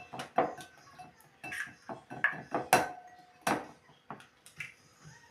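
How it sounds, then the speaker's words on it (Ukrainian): Three eggs beaten in a bowl: a close, irregular run of sharp clinks and taps as the utensil strikes the bowl's side, with short pauses between bursts and no voices. "Для рецепту нам необхідно 3 яйця. Отже, збиваємо."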